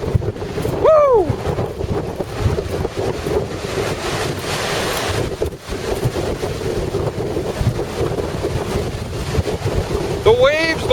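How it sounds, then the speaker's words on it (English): Strong wind roars across the Lake Superior shore at Park Point, Duluth, on a stormy winter day, with heavy surf pounding continuously beneath loud buffeting gusts on the microphone; a voice calls out briefly near the start and end. "this is Lake Superior on Park Point on Christmas Day 2009, and the winds are howling"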